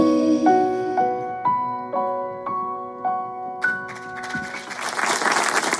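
A television studio audience breaks into applause, a broad wash of clapping rising at the end after a run of descending sustained musical notes.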